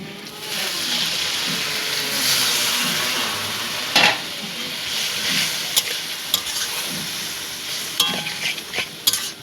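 Chicken kosha spice masala frying and sizzling in a pan, a steady loud hiss with occasional sharp clinks and scrapes of stirring.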